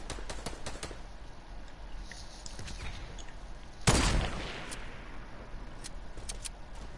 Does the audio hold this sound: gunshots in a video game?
yes